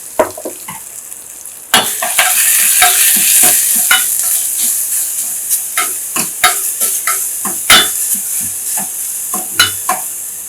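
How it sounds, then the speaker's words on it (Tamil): Fenugreek seeds, curry leaves, green chilli and rasam masala sautéing in hot oil, a loud close crackling sizzle with rapid spoon-stirring clicks and scrapes against the pan, no voices. "இந்த ரசம் மசாலா வந்து எண்ணெயில் லேசாக வதங்குறப்பவே"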